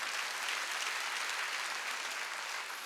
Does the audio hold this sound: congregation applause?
yes